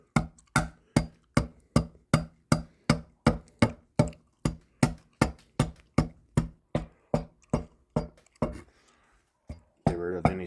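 An adze chops splinters off a wooden carving bench in about twenty sharp, evenly spaced strikes, close and crisp, followed by a brief scuffling pause and a few rougher sounds.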